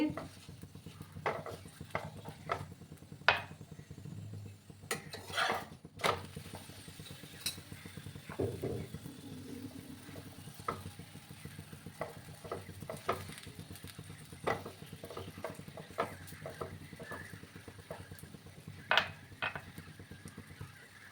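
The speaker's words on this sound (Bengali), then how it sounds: "এভাবে কিছুক্ষণ সময় নিয়ে আমি পরোটাগুলো ভেজে নেব" Paratha frying in a little oil on a pan, a faint sizzle under intermittent scrapes and taps of a utensil against the pan, with occasional soft clinks.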